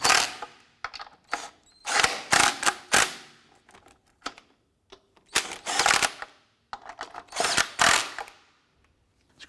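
Lug nuts on a Honda Civic wheel are snugged down in repeated short, sharp mechanical bursts with ratcheting clatter, separated by brief pauses, close and fairly loud.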